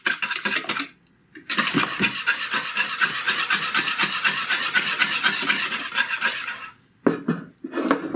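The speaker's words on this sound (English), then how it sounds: "Once that's done, we're gonna whisk in that cream." Cream being whisked into beaten egg yolks in a bowl: a fast, steady rasping whisk, loud and close, running for several seconds with a brief pause near the start and another near the end.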